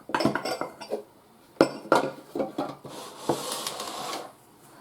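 Cast iron skillet and other kitchen items shifted around a counter while making biscuits from scratch, giving a series of close metallic clanks, knocks and scrapes in uneven bursts, with no talking.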